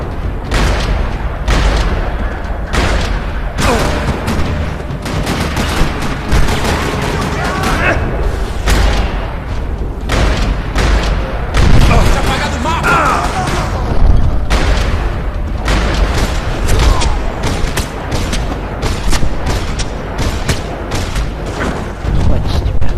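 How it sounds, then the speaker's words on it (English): Gunfire rattles across a parking lot in the video game Max Payne 3, with dense bursts and heavy booming thuds repeating throughout, loud and close, mixed with game sounds. "Another parking lot rattling with gunfire."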